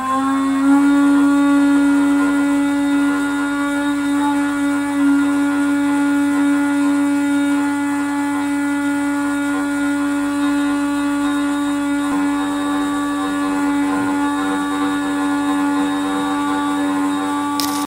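An Atomberg Zenova BLDC mixer grinder runs at a steady, even hum with a constant whine, close and unchanging throughout, with no talking.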